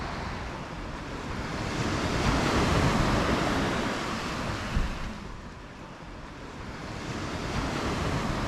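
Ocean waves at the Cape of Good Hope, South Africa, make a broad, rushing wash that rises and falls over several seconds, with gusty wind noise blended in and no voices.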